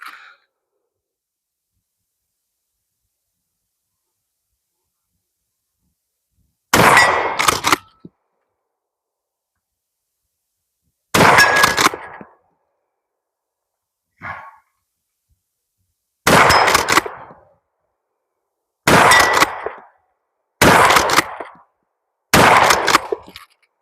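Six sharp shotgun blasts from a Hatsan Escort 20-inch barrel fired on iron sights at steel targets, spaced a few seconds apart, each loud, close and ringing briefly before silence.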